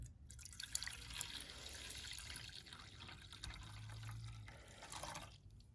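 Warm water runs into a container holding a blue watch-cleaning solution, a steady close trickle and splash with faint drips throughout, no talking.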